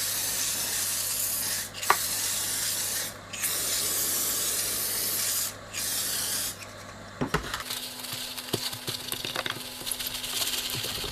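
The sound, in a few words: spraying label remover onto plastic lid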